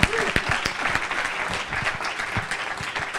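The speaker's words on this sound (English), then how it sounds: "Can we give an applause to them again?" A small group claps steadily for a few seconds, a scattering of close, crisp hand claps.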